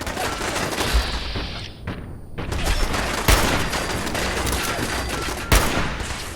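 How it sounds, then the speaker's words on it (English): Rapid sniper rifle fire in the Fallout 4 video game, shot at an Automatron robot: a dense burst of gunfire with sharp booming reports near 1 s, 3.3 s and 5.5 s over continuous loud combat noise. "I'm putting a couple of shots into his Automatron Devil"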